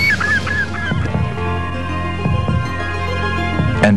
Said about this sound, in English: BIO-ACOUSTICS, which is the use of bird distress calls.